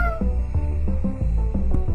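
A cat in a video game meows in a few short calls over a busy, loud game soundtrack with steady rhythmic music underneath.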